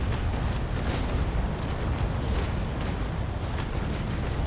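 Cannon fire from the sailing warship Ingermanland in the naval video game Naval Action sounds as a sustained rumbling barrage of booms and crackling blasts, steady and heavy throughout.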